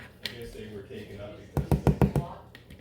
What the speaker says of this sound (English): Whoops, I'm knocking the camera.